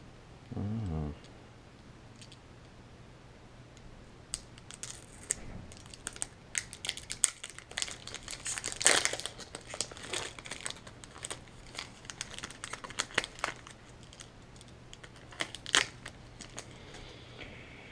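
Cardboard and plastic packaging around a 2015 Apple MacBook Pro being cut open: a brief loud burst at the start, then scattered crinkles, snips and rustles, denser near the middle, with no talk.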